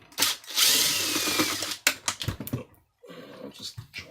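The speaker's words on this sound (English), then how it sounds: "For this, only for the removal, I'm going to use a cordless electric tool." A cordless electric tool removes screws from a faulty Miele S5211 vacuum cleaner, giving a short, whining burst followed by clicks, rattles and handling knocks of the screws and casing at close range.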